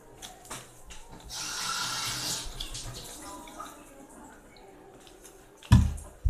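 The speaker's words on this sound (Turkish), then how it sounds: "Ben kaşığımı yıkadım arkadaşlar." A spoon being rinsed under a running kitchen tap: a steady wash of flowing water swells for a couple of seconds, then fades, ending with a few louder knocks and clatters near the end.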